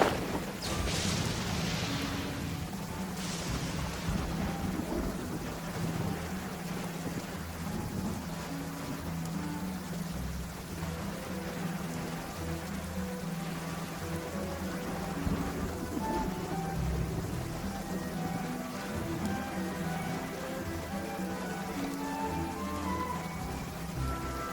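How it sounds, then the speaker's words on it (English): Steady rain patters on surfaces in a Genshin Impact game scene, a continuous dense hiss with low rumbling beneath, constant throughout with no talking. "Where'd this rain come from?"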